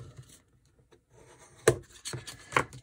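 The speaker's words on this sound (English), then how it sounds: "I'm going to burnish this a bit, because since I just did very simple folds earlier." Folded paper crease being burnished, a few quiet scattered rubbing and scraping strokes, with sharper brief scrapes near the end, close up and faint, with no talking.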